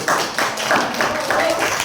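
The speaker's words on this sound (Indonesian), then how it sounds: "Tepuk tangan." A classroom of school students clapping together in a quick, steady rhythm, a brief burst of close, bright hand claps.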